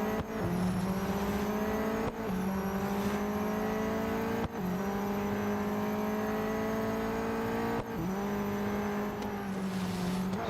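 Race car engines in Real Racing 3 droning steadily at high revs, with several abrupt gear-shift dips and recoveries over a continuous loud whine as cars circle the track.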